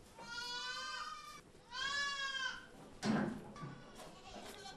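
Goats bleat repeatedly inside a shed at an agricultural animal research institute near Rostock, Germany, with several loud, wavering calls separated by short pauses.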